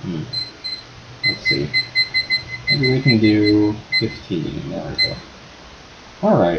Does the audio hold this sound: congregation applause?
no